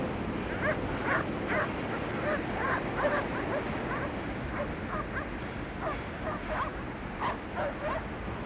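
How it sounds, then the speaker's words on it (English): Several dogs bark and yip on a scent in quick, irregular bursts, heard at a moderate distance over a constant outdoor noise floor, continuing throughout. "The dogs."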